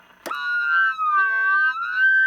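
Tweety Bird tones come over a CB radio: after a brief burst of static, a warbling, siren-like electronic chirp slides up and down in pitch, steady and fairly loud.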